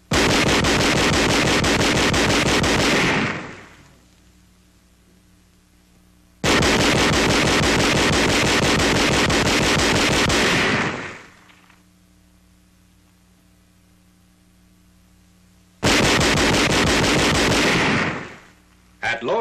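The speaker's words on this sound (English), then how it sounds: "Employing the captured 20-millimeter gun on 2nd January, enemy targets a half-mile away are brought under indirect fire." A captured 20-millimeter gun fires on enemy targets in 1945 wartime footage, with three long, loud bursts of sustained automatic fire separated by quiet pauses and a hum.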